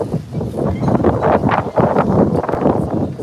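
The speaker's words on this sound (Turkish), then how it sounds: "Çok rüzgar var değil mi?" Strong wind at a lake buffets the microphone in loud, rumbling gusts, continuous and close throughout.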